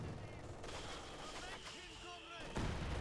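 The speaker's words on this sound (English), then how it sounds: "rounds coming in from the MG42" MG42 machine gun fire in the strategy game Company of Heroes 2, distant rattling bursts mixed into battle noise under talk.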